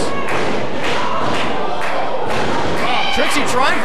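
Wrestlers slam down onto the ring mat at a women's wrestling event, heavy thuds landing over a steady crowd roar and close commentary.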